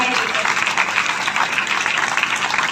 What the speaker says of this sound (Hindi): तालियों की गड़गड़ाहट से हम आपको बधाई देते हैं